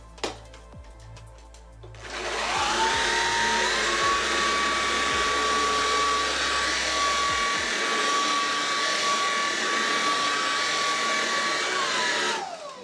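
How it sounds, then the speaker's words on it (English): A Dyson DC33 vacuum cleaner in carpet mode switches on with a rising whine and then runs at a steady, loud, continuous drone that holds until it shuts off, preceded by a few faint knocks. "So this is using the Dyson DC33 vacuum on carpet mode."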